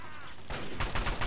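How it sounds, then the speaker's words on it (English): Gunfire in the video game Fallout 3 at the Jefferson Memorial, a burst of several rapid shots that grows louder partway through, with sharp repeated cracks over a noisy background. "And there's already gunfire."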